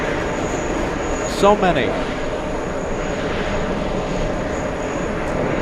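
A large airliner departing JFK for London Heathrow sends out a broad, steady engine roar, with a brief burst of voices partway through.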